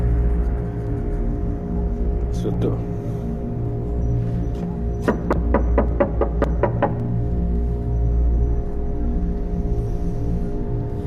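Rapid series of sharp knocks on a house door, about eight quick raps after a couple of faint earlier taps, set against a steady droning background hum.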